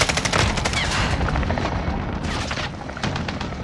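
Rapid machine gun bursts from a helicopter chopper gunner in a shooter video game rattle loudly and continuously, with heavy booming impacts and a few short pauses between volleys.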